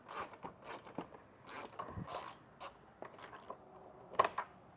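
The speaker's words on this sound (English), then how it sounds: "Now I'm going to remove 2 10-millimeter bolts underneath of our license plate holder." A ratchet wrench loosens two 10 mm bolts under the license plate holder at the front of a Ford, giving quiet, quick clicking strokes in short bursts with small gaps between them.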